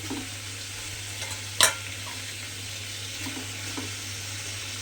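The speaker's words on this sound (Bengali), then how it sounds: "চিকেনটা দিয়ে এবারে কিন্তু খুব ভালোভাবে কষিয়ে নেব" Chicken, about 500 grams, sautéing in spiced masala for a chicken curry, a steady broadband sizzle with one sharp scrape or clatter of stirring partway through and a few faint knocks, no talk.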